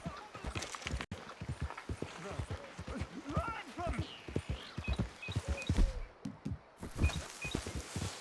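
Horse hooves clip-clop on the ground in Red Dead Redemption 2, an irregular run of hoofbeats up close, with someone talking over them and brief game sound effects.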